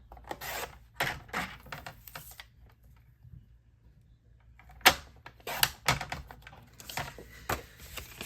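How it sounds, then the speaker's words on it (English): Paper trimmer with worn blades slicing cardstock for a watercolor card: several sharp scraping cuts and clicks, close and loud, separated by short quiet gaps. "Looks like I probably need to change out my blades in my paper trimmer."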